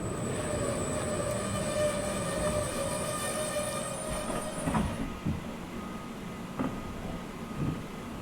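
A train in Train Sim World 2022 rumbles steadily along the rails under a high sustained whine that cuts out partway through, with a few clunks as it runs on.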